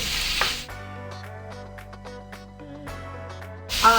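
Beef, sausage and peppers fry together in a skillet for a Philly cheesesteak pasta, giving a steady close sizzle with light stirring clatter throughout.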